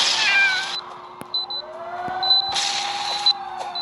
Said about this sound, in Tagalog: I'm the meowing cat.